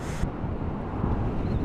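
Wind rushes past while riding a motorbike, heavy low buffeting microphone noise that stays loud and steady after a brief higher hiss fades at the start.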